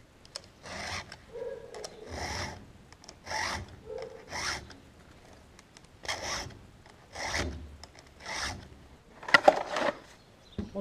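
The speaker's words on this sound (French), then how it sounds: "on va aiguiser la tronçonneuse avant d'aller là-bas" A file rasps against a chainsaw chain in repeated short strokes, steady and close, with brief pauses between passes.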